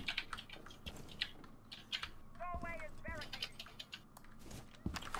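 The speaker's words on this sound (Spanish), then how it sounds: "menos ruido con el teclado" Rapid clicking of a computer keyboard runs through a Rainbow Six Siege ranked match, with game sounds and several people talking over the tapping.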